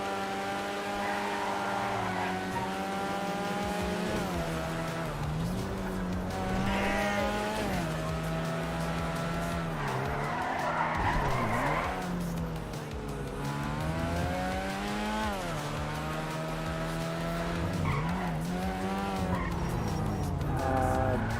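A car in a video game revs with engine pitch sweeping up and down, and repeated squeals and skids of tires cut through the steady motor sound from start to finish.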